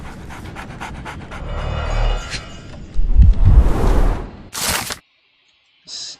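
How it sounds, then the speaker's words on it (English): In the Sherlock Holmes: The Awakened video game, a dog pants in quick rhythmic bursts for several seconds, then a sharp swoosh cuts in before a short silence and a brief final burst of sound. "There's the lady's dog, too."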